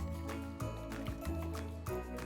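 Soil and water sloshing inside a shaken jar, a quiet series of wet rattling swishes in irregular bursts, close and faint.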